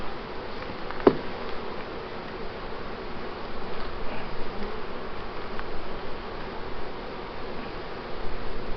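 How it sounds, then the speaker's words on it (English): Honeybees hum as a faint, steady buzzing around frames lifted from a hive, with a soft knock near the start and light rustling. "Sorry, bees."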